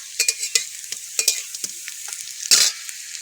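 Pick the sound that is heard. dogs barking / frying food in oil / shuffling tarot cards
frying food in oil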